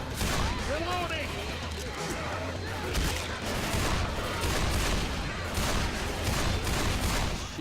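Dense, continuous gunfire with explosive rounds bursting in the Left 4 Dead video game, a loud unbroken barrage of shots and booms with game music underneath and someone talking over it.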